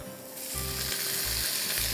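Mushrooms stir-frying in hot oil for a tofu vegetable stir fry, giving a steady close sizzle with repeated low scraping stirs of the pan, about four strokes in two seconds, no voices.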